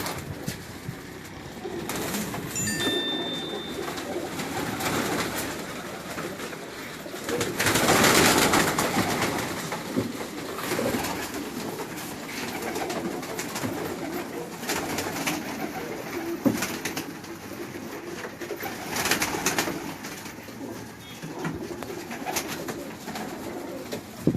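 Pigeons coo softly and steadily in a close setting, with bird calls and rustling throughout and a brief burst of louder noise near the middle.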